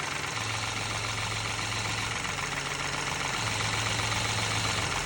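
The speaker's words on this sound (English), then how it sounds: "What she's going to do is start the car, and then we're going to pull the dipstick out slightly and listen for an RPM change." A Peugeot car engine idles with the dipstick being checked for an emissions fault, a steady loud mechanical hum and low drone continuing evenly throughout, with no talk.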